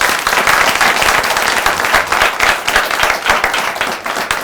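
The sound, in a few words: audience applause for Alvan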